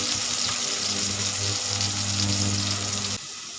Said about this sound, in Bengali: পটলগুলো একটু ভাজা হোক